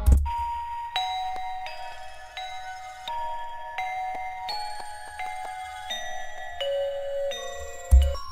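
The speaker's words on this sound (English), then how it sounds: "the last sound that I added was this bell from Contact, the mallet flux" Mallet-struck bell tones from the Kontakt Mallet Flux library play a dark, slow melody of sustained ringing notes, each new strike roughly every second over a low bass layer, with reverb and half-time effects smearing the tails.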